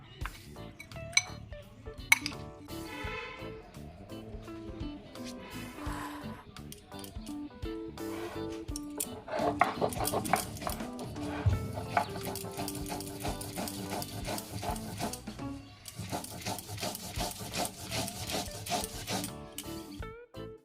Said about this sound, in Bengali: আমি এখানে শিলনোড়াতেই পেস্ট করে নিচ্ছি